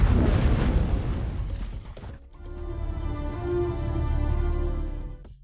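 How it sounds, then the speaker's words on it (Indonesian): Grenade blast in an action film, a loud heavy boom with rumbling debris for about two seconds, followed by a sustained low ringing drone and hum. "Dia langsung meledakkan granat itu dan melompat ke air"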